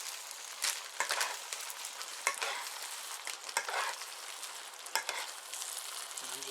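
Taco stuffed pepper filling frying in a pan while being stirred, with a steady close sizzle broken by repeated scraping strokes of the utensil. No one talks.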